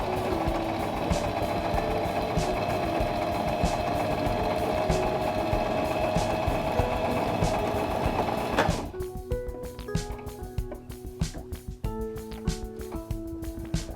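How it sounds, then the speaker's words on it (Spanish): A Singer mechanical sewing machine stitches a line on fabric with a steady, close whirring hum for about nine seconds, then stops, leaving softer clicks and handling sounds. "Cose toda la línea."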